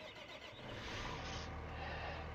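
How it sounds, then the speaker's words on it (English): A tractor engine in the Farm Simulator video game starts and settles into a steady, quiet broadband rumble that swells slightly and holds, with no talking. "Let's take this tractor over here"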